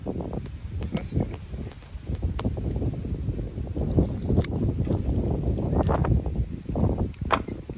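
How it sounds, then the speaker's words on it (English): Wind gusts outdoors in a garden of citrus trees, buffeting the microphone with a low, rough rumble that rises and falls throughout, along with faint rustling. "Wind just kicked up."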